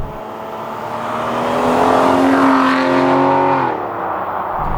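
An Aston Martin DB9 GT Bond Edition engine hums steadily and rises in pitch as it accelerates, then eases off, heard loud and close from inside the car with the window slightly open.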